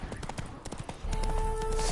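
Horse hooves clip-clopping in The Witcher 3 video game, a steady rhythmic trot of crisp close hoof strikes with a low tonal hum entering partway through.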